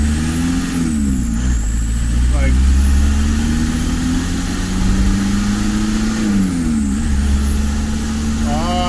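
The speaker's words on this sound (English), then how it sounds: "There's my foot to the floor in third gear." A Volkswagen TDI diesel car engine roaring under full-throttle acceleration in third gear, its pitch climbing steadily, dipping at a gear change, then rising again, loud and close.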